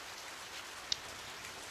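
Steady rain falls in the video game Radiant Historia, a soft, even hiss of drops that continues without a break, with a faint tick partway through.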